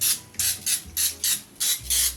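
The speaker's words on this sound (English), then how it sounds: "this is the Aldi olive spray, and I'm just going to spray the inside" Aldi olive oil spray is sprayed into muffin pans in a run of seven short hissing bursts, evenly spaced and close, each lasting a fraction of a second, with no talk.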